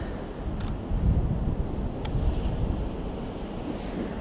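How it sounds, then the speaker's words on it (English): Surf washing over a gentle curve of sand at a river mouth as the tide comes in, a steady broad wash of water with wind buffeting the microphone throughout. "the tide's coming in, there's a bit of a surf"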